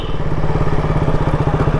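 Motorcycles idle close by: a KTM Duke 200, a Pulsar 200 NS and a Yamaha R15 V3. Their engines give a rapid, even pulsing thump that is loud and steady.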